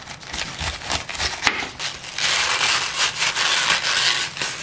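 A knife slices heavily through half a head of cabbage, weighing about a kilogram, in a close, steady run of crisp cutting strokes that grows denser and louder partway through.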